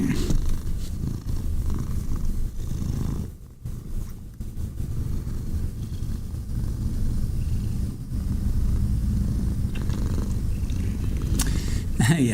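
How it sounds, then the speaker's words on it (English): A female cat purrs steadily and close up in a continuous low rumble, with a few brief pauses and soft rustling near the end. "Can you hear her purring?"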